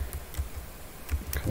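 Computer keyboard typing, a few quick taps clustered at the start and end of a short stretch, close and fairly soft, with no talk.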